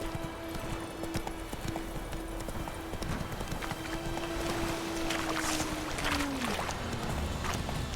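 Horse hooves clip-clopping in The Witcher 3 video game, a steady close rhythm of hoofbeats running throughout over a constant tone with other game background sounds.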